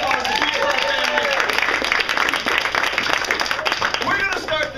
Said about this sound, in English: Round of applause for them.